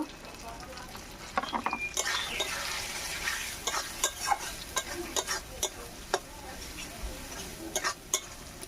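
Spices being stirred in a hot pan for a monkfish curry, an even sizzle broken by sharp scraping and clinking strokes of a spoon against the metal, close and moderately quiet.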